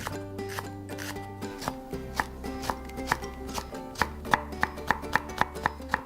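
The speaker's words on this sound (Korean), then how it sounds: "그 동안에 제가 다른 필요한 재료를 좀 다듬어 보겠습니다. 양파 해주시고 대파," A knife chops onion and green onion on a board, a quick, steady run of close, crisp taps that speeds into a regular rhythm, heard alone over a faint background tone.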